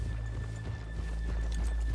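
Horses in Red Dead Redemption 2 clop along with steady hoofbeats over a low, constant rumble of game ambience, close and moderately loud, with no talking over them.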